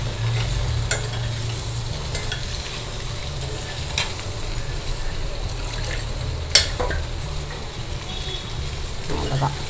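Dal water poured into rasam boiling in a pot, with stirring: a steady bubbling sizzle runs throughout, broken by a few sharp clinks and scrapes of a spoon against the vessel.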